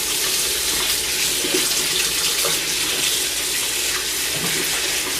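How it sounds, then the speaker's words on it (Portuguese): Equipment rinsed under a running tap, a steady rush of water splashing into a sink with small clatters and sloshes as items are turned under the flow, no voices. "Aí a gente lava em água corrente."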